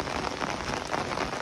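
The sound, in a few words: heavy rain falling outdoors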